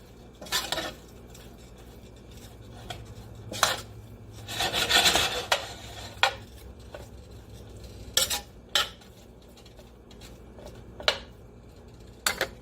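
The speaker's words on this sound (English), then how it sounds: "we're ready to add our beef skirt steak back in and give it a stir" Beef skirt steak being stirred into stir-fried broccoli and mixed vegetables in a pan, with repeated scraping and rasping utensil strokes against cookware, separate bursts spaced a second or two apart, close and fairly loud.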